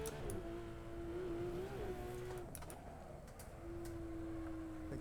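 A race car engine in Assetto Corsa holds a steady drone through the gears, easing off briefly mid-clip under braking before rising again, with no one talking.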